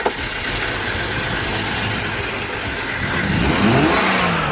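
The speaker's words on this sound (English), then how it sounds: "your car turns on" A BMW X5 engine, just fitted with new spark plugs and ignition coils, fires up and runs close to the microphone, a rough steady drone that climbs into a louder rev near the end.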